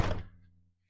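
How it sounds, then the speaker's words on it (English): A camper van's sliding door, on a self-built van, gives a single dull thunk that quickly fades, close and moderately quiet with no voices. "And the sliding door"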